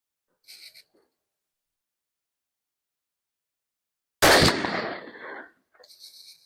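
A single loud suppressed rifle shot fitted with a Deadair Nomad LTi XC suppressor, fired while confirming zero: a sharp crack with a decaying tail, set between faint brief noises and otherwise quiet.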